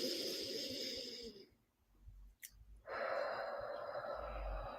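A person draws a slow deep breath into the stomach during a calming tapping exercise, a soft airy inhale that dips into near silence before a brief exhale, close and unaccompanied by talk.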